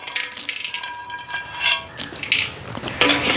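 Fenugreek seeds and a lump of turmeric are dry roasted and stirred in a pan, giving close, light scraping and rattling with small clinks in an irregular rhythm.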